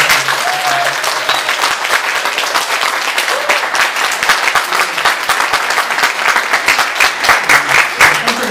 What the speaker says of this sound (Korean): 오랜만에 우리 크게 박수로 축하드립니다